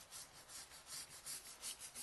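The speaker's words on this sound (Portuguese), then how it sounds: "eu vou usar essa escova para tirar um pouco da fuligem" Wire welding-cleaning brush scrubbed over the charred edge of a wooden board to clear soot, a faint, steady back-and-forth rasping in quick regular strokes, about eight passes, heard alone.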